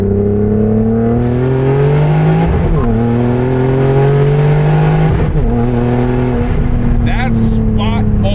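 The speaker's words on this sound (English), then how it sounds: "So I'm gonna downshift. We do second because second seems to be the most accurate." A turbocharged BMW E36 engine pulls hard in second gear after a downshift, loud and close, its revving tone climbing steadily with a couple of brief dips along the way.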